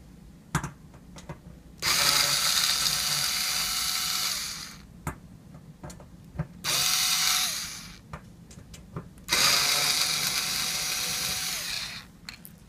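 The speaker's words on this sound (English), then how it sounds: "Now we'll remove the screws that we're holding on the entry pad." Power screwdriver backing screws out of a safe lock's entry pad, with three sustained whirring bursts of a few seconds each, separated by clicks and small handling taps, close and alone.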